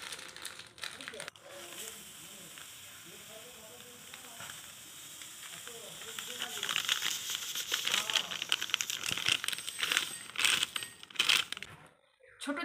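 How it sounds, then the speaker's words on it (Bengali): Two semolina packets crinkle and rustle as they are cut open, followed by a hissing pour of the grains into a bowl for making fuchka, close and fairly soft with someone talking over it. "প্রথমে আমি 2 প্যাকেট সুজিকে এই গামলির মধ্যে কেটে বের করে নেব।"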